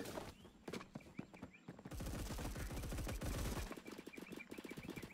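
Rapid automatic gunfire in the Phantom Forces video game, a long burst of fast, evenly spaced shots followed by further scattered shooting, fairly close.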